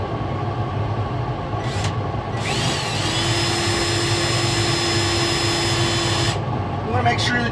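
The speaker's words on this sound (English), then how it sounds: "the center drill is just creating a pilot hole for you to come back with the number 40 drill and drill the rivet completely out" A center drill bores a pilot hole into an aircraft rivet while removing an instrument panel, giving a loud, steady high whine with a sustained tone for several seconds over constant workshop noise, with brief tool sounds before and after.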